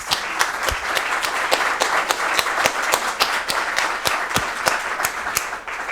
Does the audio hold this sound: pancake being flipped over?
no